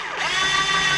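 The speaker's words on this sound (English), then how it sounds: "we're going to use our cordless here and these screws" A cordless drill drives screws into a pre-tapped headlight housing for a 1963–1967 Corvette C2, a loud, steady whine close by that holds throughout the short burst with no talking.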